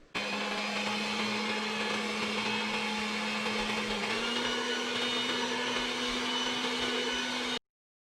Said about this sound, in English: take the egg white and then whisk it on the first speed and then move it up to the second speed